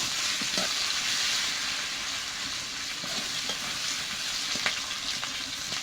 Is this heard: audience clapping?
no